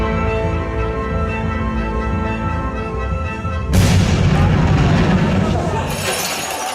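An explosion sound effect within music for a dance workshop: a sustained tonal drone breaks into a sudden loud, broad blast with rumbling debris-like noise that carries on to the end.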